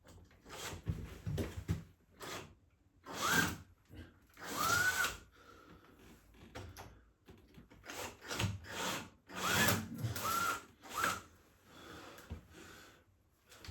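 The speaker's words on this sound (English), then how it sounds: "Now all I need to do is put the holes in." Power drill whirring in repeated bursts, several short runs of spinning with brief pauses and a rising pitch as the bit bites into the wood of a shelf unit, close by.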